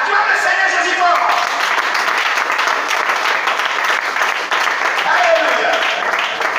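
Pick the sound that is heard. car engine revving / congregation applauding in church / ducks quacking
congregation applauding in church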